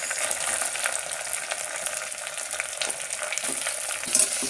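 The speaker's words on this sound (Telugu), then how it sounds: "ఎర్రగడ్డలు బాగా మగ్గనివ్వాలండి కొద్దిసేపు." Onions fry for prawn biryani in a pan, giving a steady, close crackling sizzle with bits of stirring, alone and without talk.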